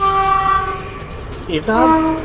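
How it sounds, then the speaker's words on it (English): A passing train sounds its horn during a Sonic Riders: Zero Gravity speedrun: a sustained, steady multi-tone blare fades, then sounds again briefly and louder near the end, with a voice speaking over it. "that was a train that used its horn"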